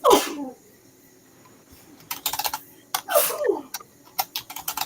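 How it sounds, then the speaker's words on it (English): Two sneezes a few seconds apart, each a sharp burst followed by faint clicking and rustling in between, close and fairly loud. "If you're going to sneeze, do it quietly."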